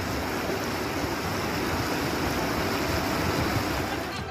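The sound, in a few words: floodwater rushing past bridges and a dam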